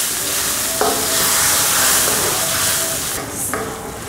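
Pork stir fry with scallions being stirred in a hot pan: a loud, close, continuous sizzle with occasional scrapes and knocks of the utensil against the pan.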